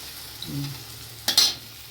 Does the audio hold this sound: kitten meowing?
no